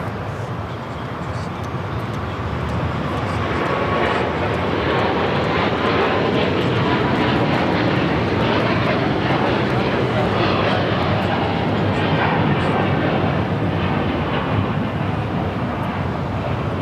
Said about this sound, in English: That was EVA Air Flight 5 taking off to Taipei on the 777-300ER